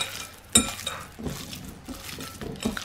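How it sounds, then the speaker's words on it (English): Horseradish being mixed into meat in a bowl, giving soft squelching stirs and a sharp clink of utensil against the dish near the start, close and fairly quiet, with no talk. "Just make sure all my horseradishes mix well into my meat."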